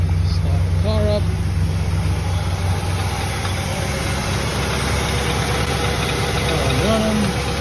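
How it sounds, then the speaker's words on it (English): A 1968 Chevrolet Chevelle convertible with a 350 V8, carburetor and power brake booster idles steadily up close, a low continuous rumble with faint voices in the background. "Car running."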